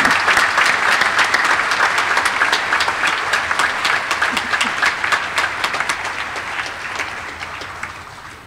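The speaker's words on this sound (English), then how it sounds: "Let's give them a round of applause as they leave the hall." Sustained applause from a university graduation ceremony audience in a hall, dense clapping with some distinct individual claps that gradually fades toward the end.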